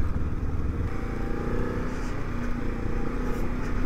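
A Honda CL500 scrambler motorcycle rides along at low speed with a steady, close engine drone and faint mechanical clatter, even in loudness throughout.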